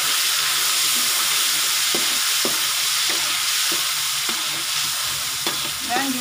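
Garlic and chili stir-fried in hot oil for fried rice, a loud continuous sizzle with occasional scraping stirs of the spatula throughout, no talking.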